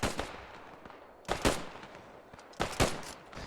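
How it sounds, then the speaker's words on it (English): Squad laying down cover fire in a video game, heard as three separate bursts of rapid gunfire, each followed by a short quieter stretch of scattered shots, with no talk. "this squad's job is to just lay down fire, lay down cover fire"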